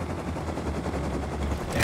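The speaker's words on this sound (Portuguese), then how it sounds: "Eu vou dar um tiro de sniper dele daqui" Sniper rifle fire in the Rust video game, heard as a dense, loud barrage of gunfire with a helicopter nearby, continuous and unbroken throughout with no talking.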